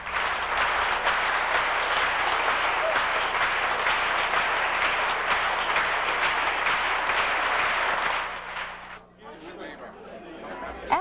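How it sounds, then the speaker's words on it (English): A Swiss concert audience stamps and claps in a dense, sustained roar with a faint rhythmic pulse, under a talking voice, then breaks off abruptly near the end. "The Swiss audience began stamping their feet and clapping rhythmically."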